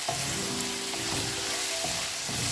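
Kalmi greens sizzle and hiss steadily in hot oil while being stirred, with a loud, continuous frying crackle throughout and no voices.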